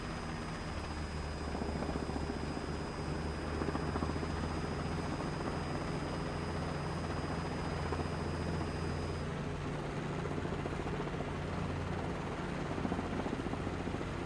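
Video game helicopter with throttle and governor switched off, a steady droning rotor and engine hum with a thin whine that cuts out partway, continuous and moderately loud with no talking.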